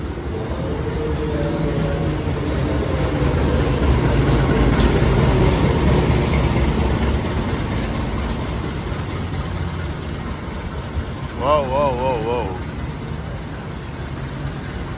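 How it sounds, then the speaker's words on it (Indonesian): Airlangga passenger train pulling into platform 4 at a station, a steady low engine rumble with rolling rail noise throughout and a brief wavering horn or whistle near the end. "Ini dia kereta api Airlangga tiba di peron 4."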